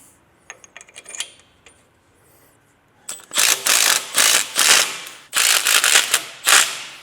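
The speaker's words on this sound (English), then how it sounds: "these bolts get torqued down to 75 foot-pounds" Bolts on an INEOS Grenadier big brake kit are tightened with a clicking wrench, several loud, quick bursts of broadband ratcheting at close range following a few lighter metallic taps.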